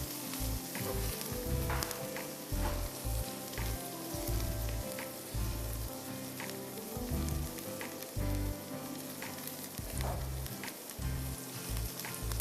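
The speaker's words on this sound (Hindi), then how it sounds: "फिर इसको पहले आप लहसुन को अच्छी तरह फ्राई करिए" Garlic frying in a pan for biryani sizzles continuously and evenly, close and soft, with low knocks and stirring thumps now and then.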